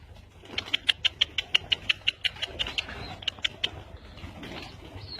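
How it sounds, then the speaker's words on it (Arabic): Black Aravel pigeons giving a rapid run of about a dozen short, evenly spaced calls, then a few more after a pause, fairly close and moderately loud over a low steady hum. "هذا طيور أرافل بأسود"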